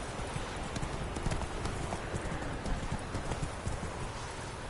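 A horse gallops in The Witcher 3, its hooves pounding in a fast, steady rhythm, loud and continuous throughout, with no speech.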